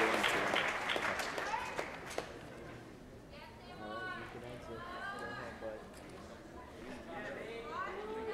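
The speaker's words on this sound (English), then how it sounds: "Please give this group of guys a round of applause for their great season." Audience applause at a fall sports awards program, a steady wash of clapping from a crowd, with voices chattering over it.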